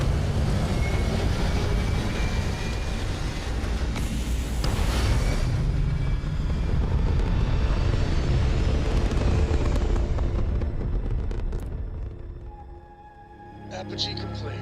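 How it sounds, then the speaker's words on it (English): Spaceship thrusters fire during a launch to orbit in Starfield, a loud, steady roaring rumble that holds for about twelve seconds before easing off, with an announcer's voice over it. "Local thrust is firing."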